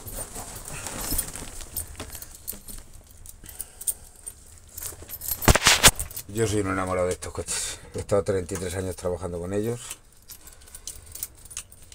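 Close metallic jangling of a set of car keys rises in the middle, a bright rattle lasting a couple of seconds, while someone talks in Spanish before and after it.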